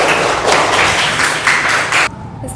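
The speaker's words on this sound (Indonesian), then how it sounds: "Tepuk tangan untuk kelompok 3." Classroom applause for a student group in a civics lesson: a dense, steady wash of clapping hands from many people, loud and close, stopping abruptly near the end.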